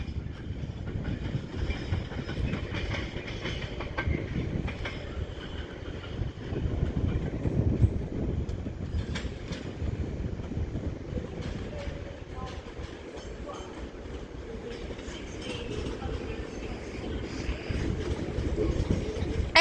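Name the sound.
Northern Class 323 train at Manchester Piccadilly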